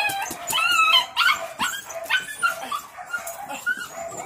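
A dog barks and yips repeatedly in quick, uneven bursts, close and fairly loud, with a few whiny cries between.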